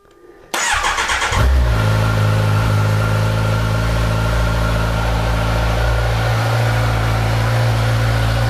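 A Kawasaki Ninja 1000SX motorcycle engine fires up after a brief starter whir, then settles into a loud, steady idle with slight revving, close by and alone with no talk.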